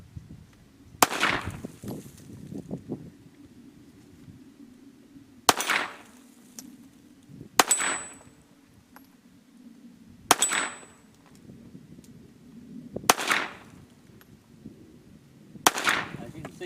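A Sig Sauer P365 semi-automatic pistol in .380 ACP fires six sharp, loud single shots at an outdoor target, spaced a couple of seconds apart, each with a short ringing tail over faint background hum.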